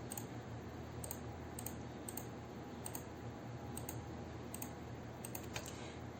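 Computer mouse clicked repeatedly while the Shift key is held, giving a series of sharp, quiet clicks at irregular intervals over a faint steady background hiss.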